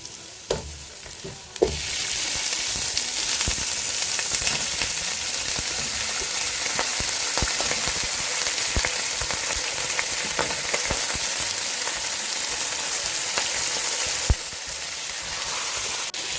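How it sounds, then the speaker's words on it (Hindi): Chicken pieces fry with garlic ginger paste in a handi, a loud continuous sizzle broken by stirring clinks and scrapes, beginning after a short quieter moment and running steadily without talk. "ये देखिए चिकन ब्राउन होने लग गया।"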